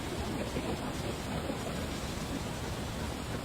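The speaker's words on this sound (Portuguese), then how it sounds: "O som que você ouviu era de uma linda cachoeira." A waterfall rushes in a steady, broadband roar of falling water, fairly faint and unbroken throughout, with no voices over it.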